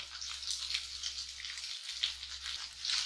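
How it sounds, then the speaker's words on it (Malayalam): Chopped garlic sizzling and crackling steadily in a hot pan as it is sautéed for a lime pickle, a soft continuous fry with no voices. "നന്നായിട്ട് വഴറ്റി കൊടുക്കാം"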